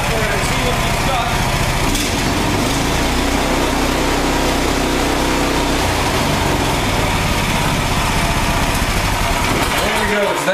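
Lifan small engine running hard with the throttle opened, a loud, steady, buzzing roar that holds a constant pitch throughout and sits very close.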